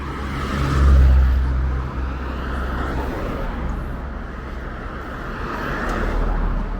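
A speeding car rushes past on a town high street in Ghana, a loud broadband roar that swells near the start and fades, with steady road and traffic noise continuing behind it.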